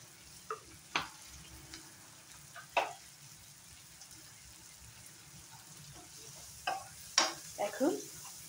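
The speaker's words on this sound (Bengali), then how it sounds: "এখন 1 মিনিটের মতো ভালো করে ফ্রাই করে নেব। পেঁয়াজটা ফ্রাই হতে থাক।" Onions with Kashmiri chili powder frying in a pan, a quiet steady sizzle broken by a few sharp scrapes and clinks of a spoon stirring.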